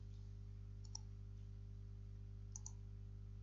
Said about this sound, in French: Clic droit de la souris, copier.